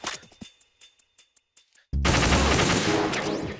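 Gunfire in Metal Gear Solid 2 on European Extreme difficulty: a quick string of single sharp shots, then a sustained loud burst of automatic fire that runs to the end.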